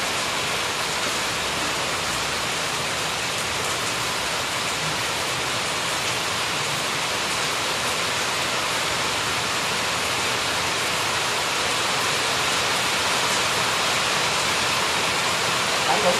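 Light rain falls in a steady, even hiss that stays at the same level for the whole stretch, with no other sounds rising above it.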